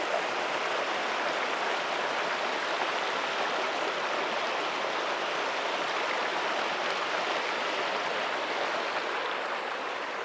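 Cold mountain stream water rushes continuously in the high desert, a steady, close, broadband flow with no voices.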